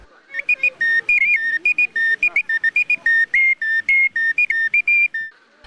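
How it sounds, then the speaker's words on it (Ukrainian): A clay bird whistle, a folk instrument, gives a shrill, warbling whistle that trills continuously in quick bursts, its pitch wobbling up and down like a bird call, loud and close. "За таку глиняну пташку свищика, що є давнім амулетом та народним музичним інструментом"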